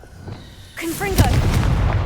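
A Confringo spell explosion in the Hogwarts Legacy video game, a sudden booming blast following a whooshing cast, loud and close, with rumbling debris tailing off after a spoken incantation.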